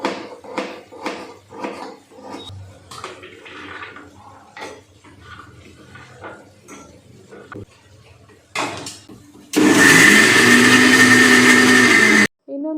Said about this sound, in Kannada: ಸಣ್ಣದಾಗಿ ಹೆಚ್ಚಿಬಿಟ್ಟು ಅದನ್ನು ಚಿಕ್ಕ ಜಾರ್ನಲ್ಲಿ ಹಾಕ್ಕೊಂಡು ರುಬ್ಕೊತೀನಿ.